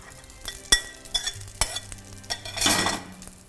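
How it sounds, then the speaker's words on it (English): Shrimp being tossed in a creamy Alfredo sauce in a pan over medium heat, giving soft stirring and faint sizzling with a few sharp utensil clinks against the pan, close up and with no talking. "Next up, the shrimp go back in to finish cooking."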